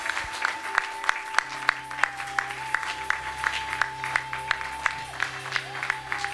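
A church congregation at a dedication service claps in a steady, even rhythm, sharp handclaps repeating about twice a second over sustained keyboard or organ tones, fairly close and lively.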